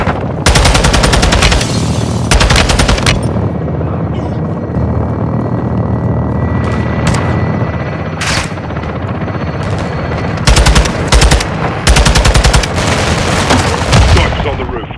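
Dense bursts of automatic gunfire from a Call of Duty Modern Warfare 2 firefight at a Shadow Co. compound, with sharp rapid volleys at intervals over a continuous roar of battle.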